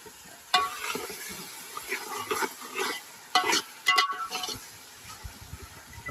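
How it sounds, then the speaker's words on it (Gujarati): Onions fry in a pan for Kathiyawadi dal cooked outdoors on a farm, a soft sizzle under intermittent scraping and stirring strokes with a couple of louder clanks, fairly close. "જો ડુંગળી નાખી દીધી છે"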